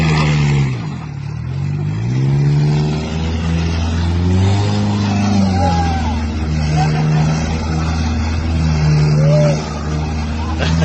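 A drift car revs hard and races, its engine note swinging up and down in long, loud sweeps and sustained howls close by.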